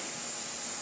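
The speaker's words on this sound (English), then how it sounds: "Rinse in distilled water and spray." Spray bottle of distilled water misting onto an aluminum part between anodizing steps, a brief steady hiss heard close and alone.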